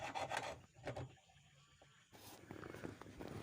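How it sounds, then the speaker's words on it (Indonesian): A hand hacksaw cuts through a metal pin for an air tank, making repeated rasping strokes up close, pausing briefly midway before the sawing resumes. "Kita gunakan gergaji besi."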